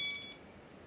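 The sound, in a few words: device beeping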